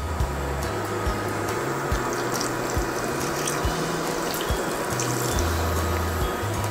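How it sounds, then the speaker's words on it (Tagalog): Water poured into a pot of cooking mussels, a steady close splashing and trickling flow that runs continuously, with a faint low hum underneath. "Add lang po tayo ng konting water."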